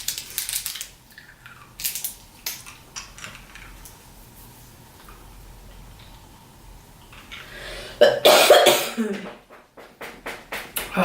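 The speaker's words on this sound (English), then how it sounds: "So I had a cough attack." A woman with a coughing fit brought on by talking a lot gives scattered, harsh coughs, a few early and then a loud clustered burst near the end, amid quiet room sounds and small handling noises.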